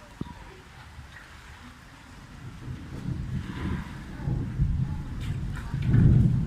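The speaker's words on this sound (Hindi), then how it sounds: "गरज बरस बारिश आ रही है।" Rain with thunder in an outdoor setting: a broad, hissing wash of rainfall and gusting wind under low rumbling thunder that swells and grows louder toward the end.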